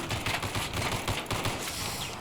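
Automatic gunfire in the shooter game Battlefield 3, a fast, rhythmic burst of shots fired close and loud for a couple of seconds, with no voices.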